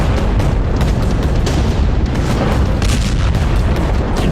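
A booming explosion effect in a news report on the Iran–Israel conflict: a loud, sustained rumbling roar with repeated heavy bursts rolling through, and no speech over it.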